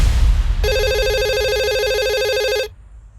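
A loud electronic telephone ring warbles rapidly for about two seconds, then cuts off, leaving a quiet room.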